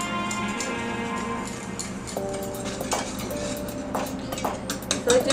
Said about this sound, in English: I'm just gonna get that all whisked together and do a back and forth movement.